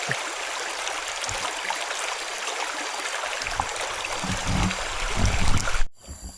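River water flows steadily and close by, a broad continuous rush with gurgling swells that grow louder toward the end before cutting off abruptly.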